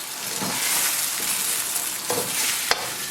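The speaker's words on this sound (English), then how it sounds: "Just add them in, stir them in, and pretty soon we will have our Ethiopian scrambled eggs" Eggs stirred into a hot pan for Ethiopian scrambled eggs (enkulal firfir), a loud steady sizzle with occasional scraping strokes and one sharp utensil knock near the end.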